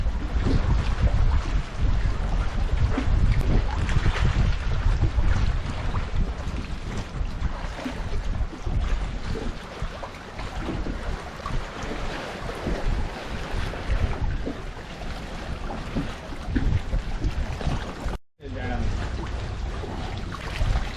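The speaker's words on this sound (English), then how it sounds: "Windy day." Strong wind buffets a small fishing boat on open water, a loud continuous roaring rush with gusts and microphone rumble throughout, a person's voice briefly under it.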